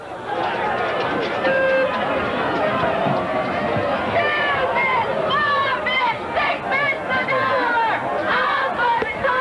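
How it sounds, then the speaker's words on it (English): A large crowd at a 1992 Class 3A quarterfinal high school football game between Independence and St James creates a continuous roar of chatter. Close commentator voices talk steadily over it. "this crowd has got to rival close to the A-Meet crowd"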